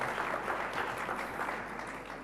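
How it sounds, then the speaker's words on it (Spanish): Applause from a conference audience during a gift presentation, a dense, loud, steady wash of clapping with no pauses over about two seconds. "Y nosotros le agradecemos con un mejor aplauso."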